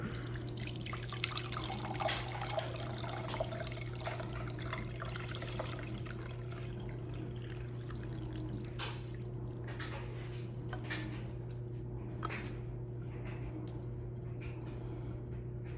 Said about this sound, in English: We're just gonna do a quick strain, nice fine strainer.